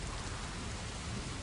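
Steady rain pours down, with a low rumble of thunder rolling underneath; the downpour stays dense and constant throughout, with no voices.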